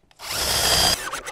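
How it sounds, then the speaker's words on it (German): A power drill bores into a piece of wood on a shaving bench, one close, loud whirring burst of about a second that stops abruptly and leaves a faint mechanical tail. "dann kann ich schön in der Mitte bohren"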